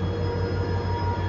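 A diesel train descends a mountain railway in Paraná, Brazil, pulled by two locomotives: a steady, close rumble of wheels and engine with a sustained metallic whine running through it.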